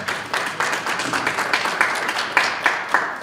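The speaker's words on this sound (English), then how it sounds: "Clap them up for that." Panel discussion audience at a Black Wall Street event clapping steadily, a dense patter of hand claps with a few sharper individual claps standing out, fairly close and sustained throughout.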